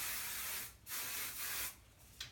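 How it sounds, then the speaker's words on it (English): Hairspray hisses onto a top knot bun in three short close bursts separated by brief pauses. "You'll finish it off with a little hairspray."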